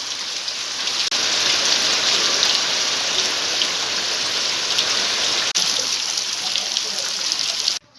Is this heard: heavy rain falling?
yes